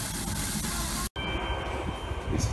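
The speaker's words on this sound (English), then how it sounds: "We used to take this train a lot" A steady rumble of a moving train in Yokohama, Japan, fills the clip, with a brief cut near the middle before the droning ride continues.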